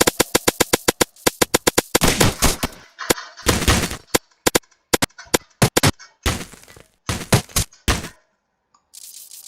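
Rapid bursts of video game gunfire crack in quick succession, with single shots and volleys separated by short silences, sharp and close.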